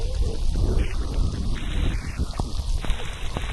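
Heavy rain pours onto a rice field in a steady, dense hiss with scattered drop impacts, continuous and close throughout.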